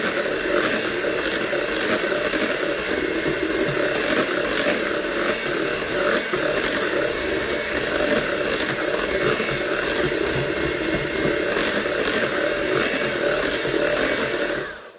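An electric mixer beats banana cake batter made with whole wheat flour in a home kitchen, a loud, continuous motor whir with scraping texture running steadily for about fifteen seconds before stopping abruptly, with no talk.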